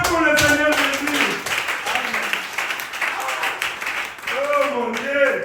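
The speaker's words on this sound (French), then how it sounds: "Applaudissez pour le Seigneur Jésus." A church congregation claps for the Lord Jesus, with dense, continuous clapping heard close, under loud voices speaking and calling out.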